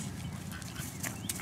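Ducks quack quietly as they gather to be fed, a few short, scattered calls sounding at a distance against soft background noise.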